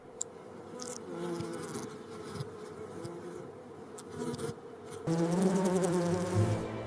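A giant hornet scout buzzes near a honeybee hive, a steady close insect drone with pitch that wavers, then swells louder and fuller toward the end.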